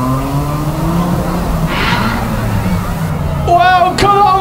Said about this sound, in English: 77 Jack goes in solidly on the nose of 589 the governor